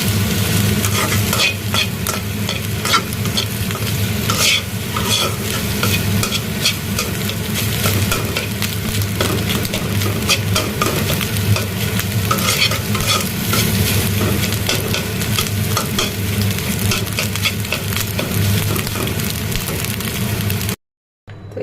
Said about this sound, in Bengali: এখন ভুজিয়া করি